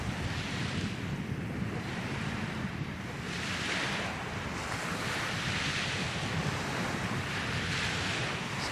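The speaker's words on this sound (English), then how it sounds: "Wind's picking up a bit, so I'm gonna have to get a move on." Winter wind blows outdoors beside Lake Chelan, a steady, loud broadband rush that swells and eases in gusts, buffeting the microphone, with no voices.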